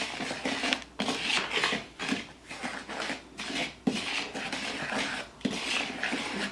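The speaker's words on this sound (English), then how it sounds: "I'm going to mix all of this up" A spoon stirs cornbread batter in a bowl, making a steady run of close, scraping, sloshing strokes broken by brief knocks against the bowl, with no voices.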